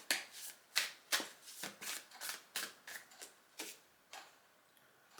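A deck of tarot cards is shuffled up close, giving a quiet run of crisp riffling bursts in an even, brisk rhythm with no one speaking.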